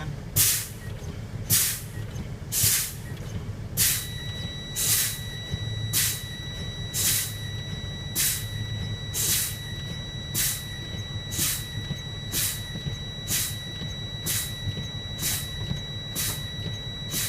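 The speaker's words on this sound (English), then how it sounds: "So fan the brakes again." Truck air brakes fanned during a spring brake test: a steady run of sharp air-release hisses, roughly one every second, over a low idling rumble, with a faint steady whine joining partway through.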